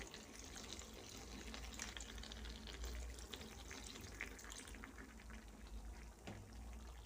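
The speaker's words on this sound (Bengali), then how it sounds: "এবার আমি দিয়ে দেব পরিমাণ মতো জল চিকেন আলু ভালো করে সেদ্ধ হওয়ার জন্য" Water is poured into a cooking pot of chicken and potatoes for methi chicken, a steady, soft rushing splash running for several seconds at low volume.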